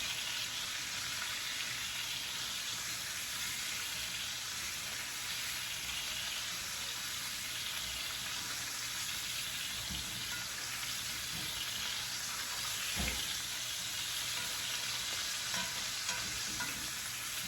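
Steak sizzles steadily in a hot pan with garlic as it is basted, a continuous bright fry hiss with a few soft clanks from the spoon, close and alone without talk.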